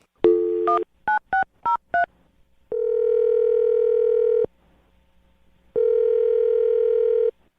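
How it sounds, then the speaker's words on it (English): A quick run of several dialing beeps, then a steady telephone dial tone that sounds, pauses, and returns, clear and close with no voices. "I'm going to dial her phone number right now"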